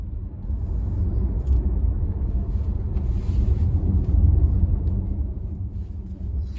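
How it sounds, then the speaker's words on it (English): Volkswagen ID3 1st Edition electric car rolling over road bumps, heard from inside the cabin as a steady low rumble with faint muffled thumps, no voices. "You can hear the bumps, but they are not transferred through to the cabin"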